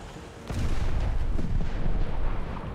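A 76 mm gun fires in the War Thunder tank game, a single deep boom followed by a rumbling, sustained roar that lingers for a couple of seconds with no talk over it.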